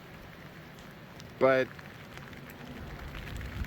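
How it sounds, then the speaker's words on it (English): Steady rain falling outdoors in rural Horry County, South Carolina, during Hurricane Ian, a soft continuous hiss throughout, broken by a brief spoken word near the middle. "of course it started raining again as soon as I started recording"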